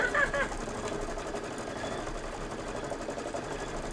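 An embroidery machine stitches a Kimberbell Cup of Cheer project, a steady mechanical hum and rapid needle rattle running continuously at close range, with a brief louder burst at the start.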